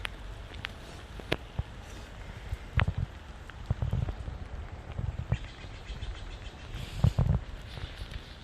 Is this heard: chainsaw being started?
no